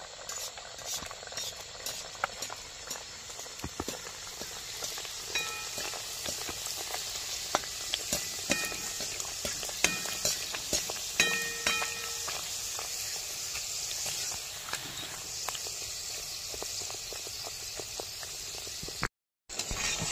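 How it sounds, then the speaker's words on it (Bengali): Lafa kochuri deep-fry in hot oil, a steady bubbling sizzle close by with scattered clicks and scrapes of a utensil stirring and lifting the pieces, with no talk. "এইভাবে সবগুলো আমি ভেজে নিচ্ছি।"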